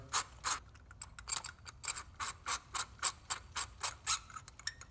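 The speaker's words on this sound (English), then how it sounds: "Gonna use our socket to put this new one in." A socket ratchet clicks in quick rhythmic bursts while threading a new spark plug into a 2017-2022 Honda CR-V engine, the close, crisp pawl clicks coming in steady repeated strokes with no talking.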